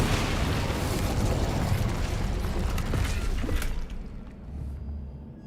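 A fire spell is cast in the Hogwarts Legacy video game, producing a loud, roaring whoosh of flame that burns steadily before cutting off abruptly and leaving a quieter tail.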